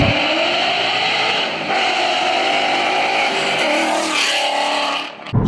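A 2019 Ford Mustang GT with aftermarket headers and a tuned V8 exhaust roars loudly and continuously, rising in pitch as it revs, dipping briefly, then climbing again before cutting off abruptly near the end.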